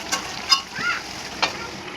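Mutton kosha cooks in a covered pot over a low flame, giving a soft, steady sizzle with a few faint clinks and stirring taps near the listener.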